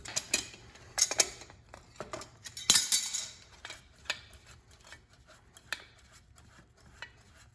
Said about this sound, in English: we're gonna take our Nippex pliers again, and we're gonna unscrew our oil filter